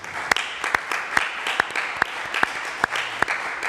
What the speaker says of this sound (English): So let's give these young ladies a round of applause